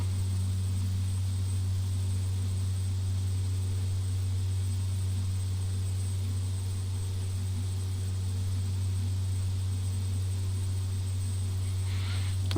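Steady, loud drone of a light aircraft engine in cruise flight during IFR training, constant throughout with a strong low hum and broadband cabin noise.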